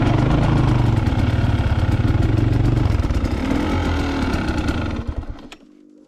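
A Minsk X250 motorcycle engine runs close and loud with a steady rough idle and rhythmic clatter, then winds down and cuts off near the end.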